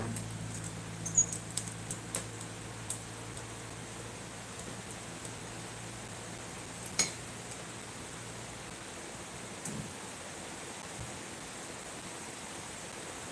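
Rain falling outside a window in Sukhothai, Thailand, a steady soft hiss of patter with a few faint taps and drips, heard alone without voices.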